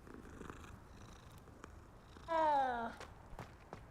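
A cat purring as it is petted in the game Hogwarts Legacy, soft and low at first, then a short, louder mewing purr near the end, alone over quiet background.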